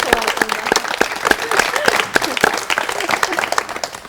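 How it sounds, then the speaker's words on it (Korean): Studio audience applause on a 1985 Korean television talk show, lively rhythmic clapping from a crowd, fairly loud and close, with a voice speaking over it. "참 다시 한번 박수를 환영합니다."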